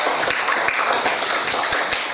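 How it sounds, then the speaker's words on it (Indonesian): Classroom students applaud a classmate, a steady, dense wash of many hands clapping together, moderately loud and continuous throughout without talk. "Silakan berikan tepuk tangan untuk temannya yang sudah."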